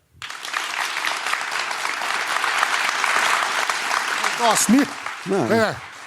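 An audience breaks into applause at an indoor cultural evening, dense steady clapping that swells and then thins out, with a few voices calling out near the end.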